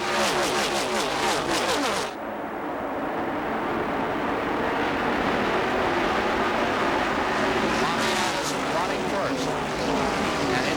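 Stock cars in the 1981 Daytona 500 roar past as a loud, continuous broadband engine drone that briefly dips and then swells again as more cars pass close by.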